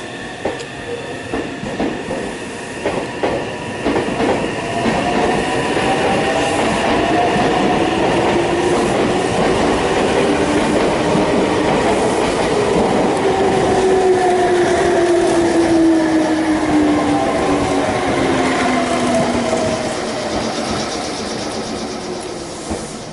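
A train rolls into Higashi-Okazaki station in Japan, its loud rumble building and sustained with rising and falling squealing tones from the wheels and brakes, then gradually easing.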